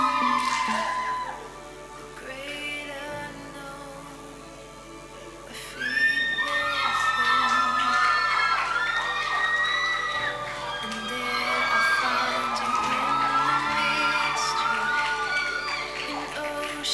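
A crowd cheering and shouting with joy at a Christmas celebration honouring an engaged couple, with loud whoops and overlapping shouts surging after a quieter opening, heard over background music and voices.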